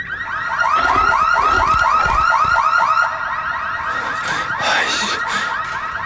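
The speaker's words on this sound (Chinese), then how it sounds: "随着越来越多的车子此起彼伏地发出警报声" Several car alarms go off together, their looping, warbling electronic whoops overlapping loudly and continuously. A brief sharper burst comes near the end, with no talking.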